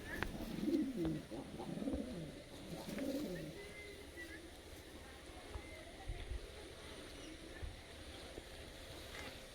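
Madrasi pigeons shown for sale give soft, low cooing in the first few seconds, fairly close, with quieter background murmur afterward.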